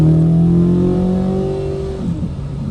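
A 2026 Corvette Z06 3LZ accelerating hard: a loud, close engine note climbs steadily in pitch, then eases off and fades as the throttle lifts.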